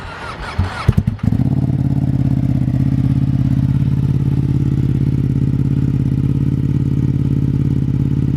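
A 2021 Ducati Panigale V2 fitted with a full Akrapovič exhaust, dB killers removed, cranks over with a brief clatter, catches after a second, then settles into a loud, steady, lumpy idle with no talking.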